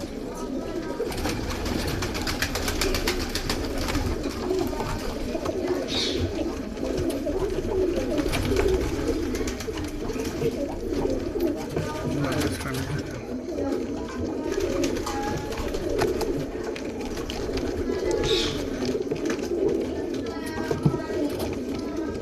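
Large-breed Ferozepuri pigeons coo continuously at close range, overlapping throaty calls rolling on throughout, with someone talking at times over the birds.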